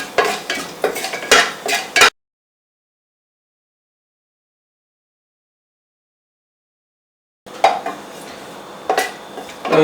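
Whole spices, including mace and cinnamon, are stirred in a pot for Malabari chicken biryani. Two short bursts of scraping and clattering are split by a long stretch of silence, with no talk.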